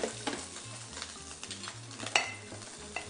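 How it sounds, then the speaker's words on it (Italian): Milk being heated and stirred in a pan, a soft sizzle with quiet scraping strokes of stirring that recur at a steady rhythm, faint and close, with no talking. "facciamo bollire il latte"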